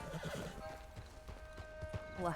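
In the RedM western game, a horse whinnies while hooves clip-clop in an uneven rhythm, fairly faint, with a voice speaking over it.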